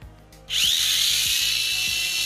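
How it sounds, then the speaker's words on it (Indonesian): A Mini 4WD Auldey Golden Arrow Tiger toy car's small dynamo motor spins up after a brief quiet moment, then holds a loud, steady high-pitched whine close by for the rest of the clip. "kita dengarkan dinamo"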